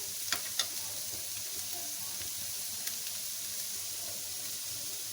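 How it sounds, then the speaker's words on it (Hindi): Onions fry in oil over a medium flame, giving a soft, steady sizzle with faint crackles and a few small pops near the start. The sizzle is quiet and even, with no talk. "इनको भी अच्छे से हम इसमें फ्राई कर लेंगे लड़ा मीडियम फ्लेम पे।"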